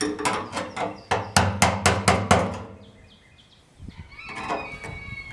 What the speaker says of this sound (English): I've got a screwdriver here and a micro-sized ball peen hammer, and this is all we're going to do